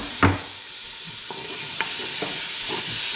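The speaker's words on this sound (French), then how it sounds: "j'ajoute les minces de tomates et je vais faire cuire ça" Chopped tomatoes simmering in a pot over low heat for a lamb curry give a steady soft sizzle, broken by a few sharp knocks of a spoon stirring against the pot.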